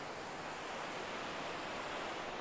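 Constant broadband rush of surf on the beach at Side-Kumköy in the evening, waves washing in without a break, close and even in level, nothing else audible.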